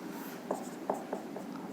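Marker or chalk writing on a board during a chemistry lesson on Grignard reagents: a few short, scratchy strokes over a steady room hiss, close and faint.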